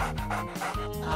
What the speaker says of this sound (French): Un chien féroce.